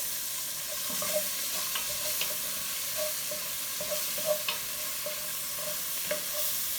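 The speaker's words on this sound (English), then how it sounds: "I'm going to take my white onion and I'm going to add it to the pot, building up the flavors." Chopped white onion sizzles in a pot that already holds bacon for a carbonara sauce, with a steady frying hiss and faint clicks and scrapes of stirring spread throughout.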